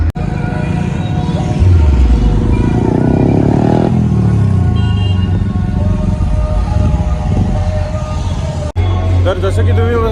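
Motorcycles idle and rev at a bikers' meet that includes a Kawasaki Z900 and a Bajaj Pulsar N250, with a loud, close engine drone rising and falling in pitch and someone talking over it.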